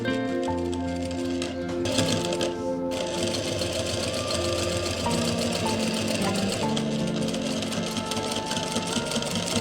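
A sewing machine runs steadily while stitching patches onto a neck design, with a continuous close mechanical whir and rapid needle clatter.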